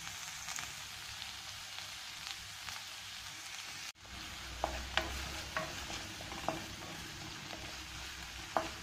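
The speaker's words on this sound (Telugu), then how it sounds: "నెయ్యి వేడెక్కిన తర్వాత 1 కప్పు ఆనియన్స్ వేసి ఫ్రై చేసుకుందాం." Onions fry in hot ghee in a pan, giving a steady soft sizzle with occasional clinks of a stirring spoon against the vessel. A brief break comes partway through, then the frying continues, close and moderately loud, with no voices.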